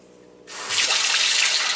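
Water runs from a sink faucet in a skoolie school-bus conversion, with hot water fed by a pump. A steady, close hiss of flowing water starts suddenly after a brief quiet moment and grows a little louder, with no talk.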